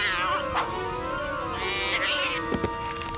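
A sacred cat in a French animated series meows, a high tonal cry with a couple of short inflected calls over a soft, busy background.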